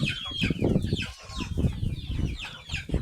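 A flock of village chickens clucks busily while being fed crushed maize, with overlapping near and far clucks and short squawks in an uneven, lively chatter.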